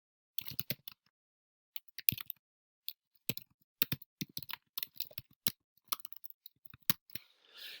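Typing on a computer keyboard to enter text, with irregular bursts of quick, close key clicks separated by brief pauses, no talking.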